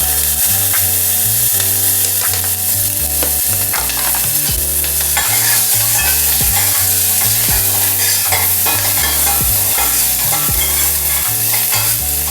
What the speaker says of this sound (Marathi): तेल छान गरम झालं आहे त्यामुळे फोडणी पण आपली छान तडतडते आहे.